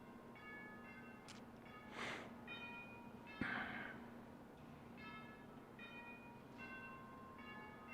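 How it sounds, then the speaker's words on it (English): Senate chimes ring in the Colorado Senate chamber during a moment of silence, soft sustained tones repeating at a slow, steady pace, faint and distant over quiet room noise. "The Senate will observe a moment of silence and the Senate chimes will ring."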